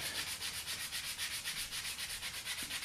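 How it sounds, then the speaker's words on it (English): Steady rhythmic rubbing as a small sanding pad or hoof buffer polishes a horse's hoof, close up with quick regular back-and-forth strokes and no talk. "You can finish with a little sanding pad or hoof buffer."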